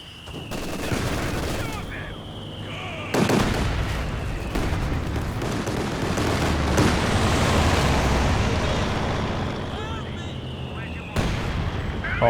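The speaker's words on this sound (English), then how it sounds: "Pretty sure it was the heavy mortar barrage, though." Heavy mortar barrage explosions in the Company of Heroes 2 strategy game, a dense rumbling series of blasts and booms with sharp impacts, continuous for several seconds under game effects.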